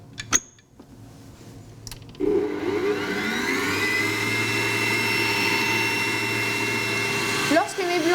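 An electric stand mixer whisks egg whites at medium speed for macaron meringue, starting after a few clicks and holding a steady whirring hum to the end.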